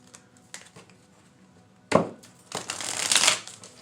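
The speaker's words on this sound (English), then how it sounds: "All right, we'll shuffle it again." Tarot cards are shuffled by hand, with a few soft early taps, then a sharp riffle burst and a longer crisp, papery flurry of card shuffling up close.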